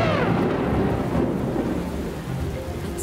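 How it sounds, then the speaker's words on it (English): Thunderstorm with heavy rain in a children's animated animal folktale, a loud rolling rumble of thunder over a dense continuous hiss of rainfall that eases slightly toward the end. "It's just rain,"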